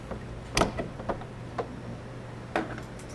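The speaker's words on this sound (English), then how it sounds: "Close the door." The door of a Comfort XL unit being assembled is closed, giving a few light, quiet clicks and thumps over a steady low hum, with no talking.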